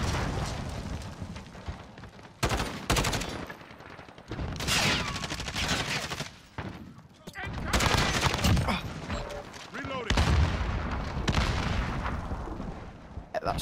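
Grenade blasts and rapid gunfire in Call of Duty Modern Warfare 2019 Domination on the Hardhat map, with Grau rifle fire and Semtex: dense, loud, overlapping bursts of shots and booms in repeated waves with brief lulls between.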